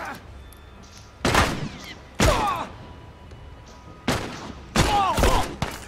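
Gunshots in The Last of Us, several loud, separate blasts spaced a second or so apart over a quiet background, each with a short ringing tail.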